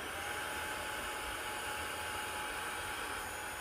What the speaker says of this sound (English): And you can see how it's sucking all the air out of there so efficiently